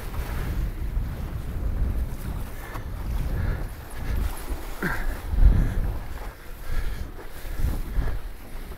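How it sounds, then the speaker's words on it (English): Strong wind buffets the microphone while wing foiling on wavy, cold open water, with steady low rumbling gusts and water wash throughout, loud and close, with no talking. "Got some good waves, got a lot of wind."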